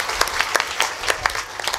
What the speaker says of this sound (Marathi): एकदा टाळी वाजवा महाराजांसाठी